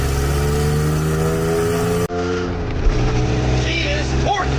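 A straight-six car engine pulls hard up a highway on-ramp, its loud, steady drone filling the cabin before an abrupt cut, with voices inside the car.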